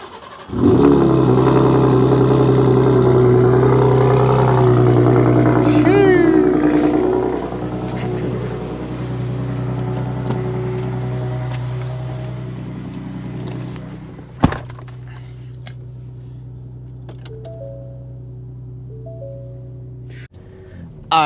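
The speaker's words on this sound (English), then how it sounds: "Let's just get a cold, a little bit of a cold start for you folks." A truck engine on a cold Saturday-morning start, loud and close, revving hard for several seconds before dropping to a steady low idle with a single sharp knock near the end; no talking.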